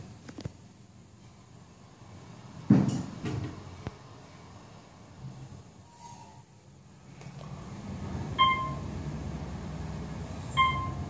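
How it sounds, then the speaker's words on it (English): Hotel elevator at the Montage in Park City: a sharp thud of the door closing, followed by low mechanical rumble of the car moving and a couple of faint chime tones, with no talking. "Please stand clear of the closing door."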